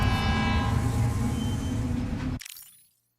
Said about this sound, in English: we'll just get a shot of the monorail doing its thing